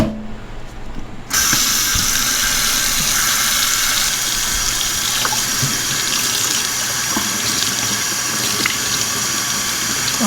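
Warm tap water gushes into a sink to rinse a tie-dyed V-neck tee, starting suddenly after a quiet moment and then running as a steady, close hiss and splash with faint handling knocks.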